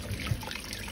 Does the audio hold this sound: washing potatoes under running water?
yes